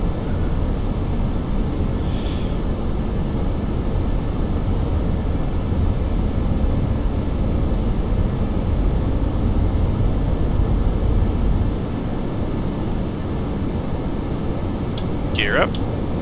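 A MiG-21bis jet engine roaring steadily at military power and afterburner in the DCS flight simulator, a loud continuous broadband rumble that eases slightly near the end, under a voice speaking.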